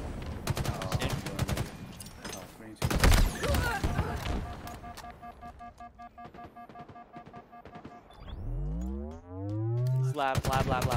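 Rapid bursts of video game gunfire from several directions at once, loud and dense, with shouted voices and later a rising, warbling electronic tone.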